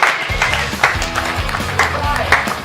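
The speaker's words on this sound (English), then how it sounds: "Little round of applause there" Scattered applause from people in an auction room after a property sale, uneven clapping that runs under louder nearby talk and background noise.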